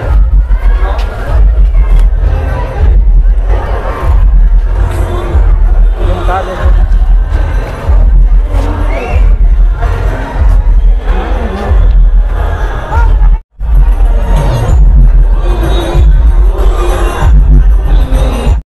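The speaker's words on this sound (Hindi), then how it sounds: "अब भीड़ तो देखो, भीड़ यहाँ पर काफ़ी भीड़ है यार" Dense crowd at a Durga Puja pandal at Marwari Bhawan, a loud continuous babble of many voices with traffic noise and occasional bangs, close and unbroken apart from a brief dropout.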